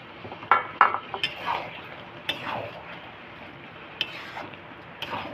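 Fried eggplant going into a pot of mung dal and spinach ghonto, with scattered clinks and knocks of a spoon and pot in irregular bursts at moderate loudness.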